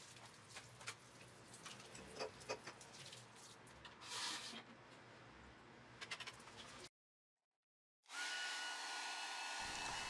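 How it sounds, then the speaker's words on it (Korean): A hair dryer blows hot air over the power board of an appliance that was flooded. After a short silence, its steady, loud whooshing whir switches on close by. "이제 드라이기로 건조를 잘 시켜주면 되는데 적어도 30분 이상 충분히 열을 가해 준 다음"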